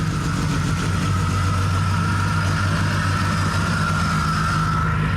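Race-prepped car built for a 24 Hours of Lemons endurance event in New Hampshire, its engine running at a steady, even idle, close and continuous throughout with no talk.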